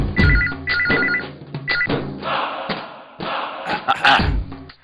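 A landline telephone rings in several short repeated bursts, loud and close, with heavy thumps and dramatic background music underneath.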